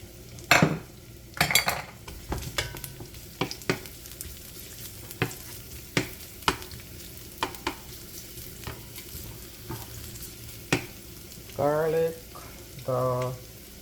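Garlic fries in hot oil in a pan over medium heat, with a steady soft sizzle broken by sharp utensil clinks and scrapes against the pan, and a couple of louder stirring bursts near the end.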